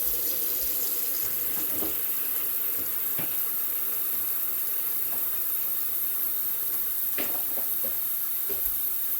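Water runs steadily from a tap into a kitchen sink as it fills, a constant close hiss and splash with occasional small clinks, with no talking.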